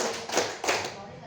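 A few group hand claps in a patterned clapping game at a school gathering, two distinct soft claps spaced apart against a quiet room, faint and close.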